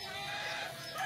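Caged chickens clucking, a dense, steady chorus of hens filling a short stretch of farm sound with no talk.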